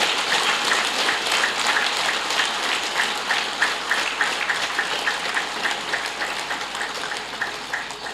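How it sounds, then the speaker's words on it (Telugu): A large audience at a meditation gathering clapping hard and fast, a dense, sustained burst of applause that stays loud and steady throughout without speech. "గట్టిగా చప్పట్లు కొడతాం"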